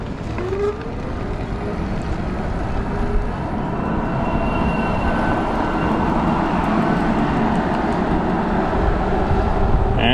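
An electric trail bike runs on throttle power alone without pedaling, a steady loud rush of wind and rolling noise with a faint motor whine that holds throughout.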